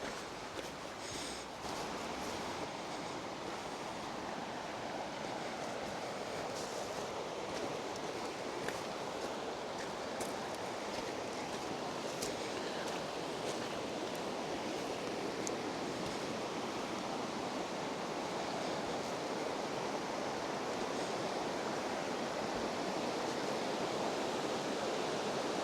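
A high river on the Cynon Trail rushes in a steady, broad wash of noise, constant and fairly quiet throughout with no talking.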